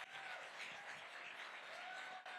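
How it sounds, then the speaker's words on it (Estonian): Audience at a comedy show applauding, a faint, steady wash of clapping that holds evenly throughout with no voices on top. "nii et aplodeerime neile"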